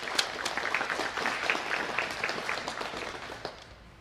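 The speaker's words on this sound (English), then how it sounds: "Let's give them a quick round of applause" Audience applause at a college commitment ceremony, a steady wash of many hands clapping at moderate distance, fairly soft and fading slightly toward the end.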